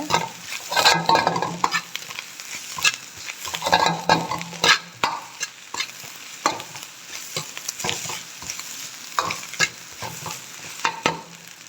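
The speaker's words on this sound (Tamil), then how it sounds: "கொஞ்சம் நல்லா வதக்கி விடுங்க" Masala for chicken rice being sautéed in a pan, with loud, busy stirring: rapid scraping and clattering of the ladle over a crackling sizzle, close up and uninterrupted by speech.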